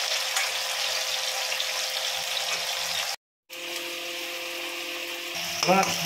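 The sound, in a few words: potatoes frying in oil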